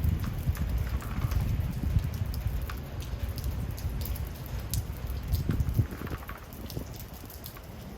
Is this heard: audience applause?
no